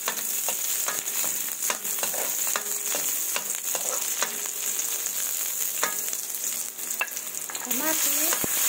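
Onion sautéing in a hot pan for a kangkong and tofu dish, a loud, close, steady sizzle broken by scraping stirs and clinks of a utensil, ending with a brief pitched squeak.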